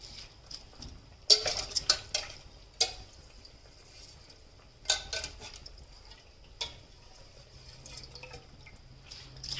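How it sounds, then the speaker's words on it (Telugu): Washed rice tipped into simmering water in a cooking pot for bagara rice and then stirred, with a few sharp splashing clatters and scrapes between stretches of quiet bubbling, near and moderately loud. "ఇలా నీళ్లు మసలే దానిలో రైస్ని వేసుకున్నాము"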